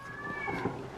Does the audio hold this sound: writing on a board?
no